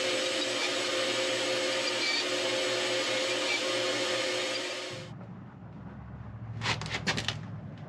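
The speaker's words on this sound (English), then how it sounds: "I'm just using the bandsaw to run right down the cut line, cut all the tabs loose" A bandsaw runs steadily through walnut, cutting the tabs loose on award plaques, loud and close, then the motor cuts off around five seconds and a few short knocks and rattles follow as it winds down.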